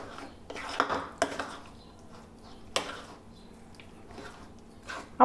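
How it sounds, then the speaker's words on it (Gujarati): A spoon stirs mango matho with cardamom powder in a bowl, giving soft wet squishes and a few sharp clinks against the bowl, close and fairly quiet, with no talking. "હવે આવી રીતે ફરીથી મિક્સ કરી લેશું"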